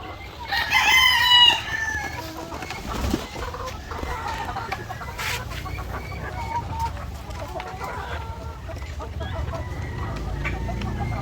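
A rooster crows loudly near the start, then chickens cluck and murmur steadily nearby over a low outdoor background.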